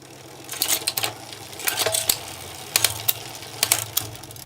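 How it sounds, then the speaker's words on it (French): A bicycle drivetrain with a Shimano Octalink crankset is shifted quickly across the chainrings, giving bursts of clicking, rattling chain and derailleur noise over a low whirring hum, in several separated clusters. "On viendra donc s'assurer du bon passage de ceux-ci en passant rapidement l'ensemble des plateaux."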